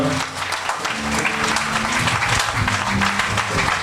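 A church congregation at a Sunday service breaks into dense, continuous applause that fills the room for several seconds and stays steady throughout, with a few voices faintly audible beneath it.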